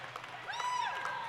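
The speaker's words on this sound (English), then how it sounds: "Crowd goes absolutely crazy here in Ted Reeve Center" Roller derby crowd at Ted Reeve Centre bursting into applause and cheers, a short loud swell of clapping and voices with a whistle-like tone riding over the noise.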